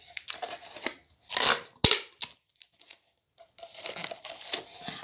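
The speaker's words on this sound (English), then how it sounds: "It's a bit tricky just getting your fingers in to sticky tape that down." Sticky tape is pressed and smoothed onto a paper bird craft in short bursts of crinkling and light ripping, separated by brief pauses, close and fairly quiet.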